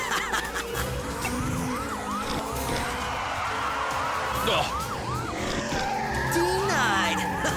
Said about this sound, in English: Watch me hit the brakes